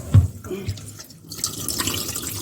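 Running water splashes and drips through a fine strainer as sesame seeds are rinsed over a sink, a close, wet trickle with a soft thump at the start.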